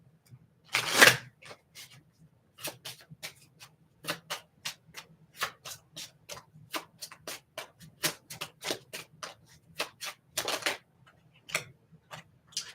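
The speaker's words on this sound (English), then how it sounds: "just a couple from the Zodiac fortune telling cards" Zodiac fortune telling cards being shuffled, a quiet close series of crisp papery taps and flicks in a steady rhythm, opening and ending with brief louder riffles.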